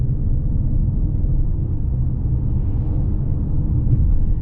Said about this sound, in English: You can hear, of course, the engine sound with it revving up or revving down